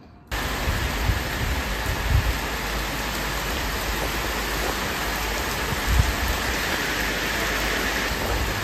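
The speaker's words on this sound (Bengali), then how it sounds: "বৃষ্টি হচ্ছে, খুব সুন্দর, বেশ গরম পড়েছিল, বৃষ্টিটা হওয়া খুব দরকার ছিল।" Steady rain falls, a dense, even hiss of drops that cuts in abruptly and continues unbroken at moderate level, with a few faint thumps and no speech.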